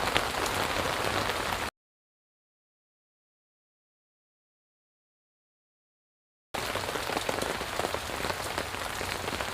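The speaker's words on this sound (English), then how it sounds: "Rain is beginning to lighten a little bit now." Steady, dense rain falls outdoors during a live Baltimore broadcast, a loud continuous hiss and patter that cuts out completely for several seconds and then returns just as heavily.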